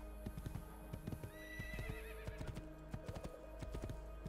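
Steady clip-clop of hooves trotting close by in the video game Assassin's Creed 2, with a horse whinnying partway through over a faint background hum.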